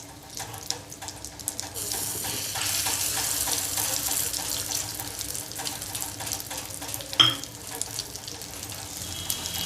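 Fish shami kebabs, three at a time, sizzle on a tawa griddle with a steady broadband hiss that rises and holds, broken by a few sharp clicks and one brief louder pop near the end.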